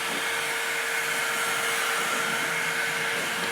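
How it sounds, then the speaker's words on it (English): A vacuum cleaner runs continuously around a tabletop diorama, picking up excess static grass, a steady whining motor drone with a constant high tone and no voices. "I'm going to start our vacuum up like so, and I'm just going to run around the table"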